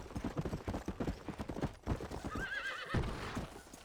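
Horse in Red Dead Redemption galloping with fast hoofbeats, then a clear neigh near the end, heard close and fairly loud.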